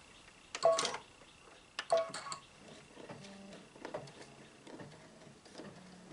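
An embroidery machine stitching the background of a Kimberbell mug rug, giving sharp mechanical clatters and a run of rhythmic ticking stitches at close range, alone without talk.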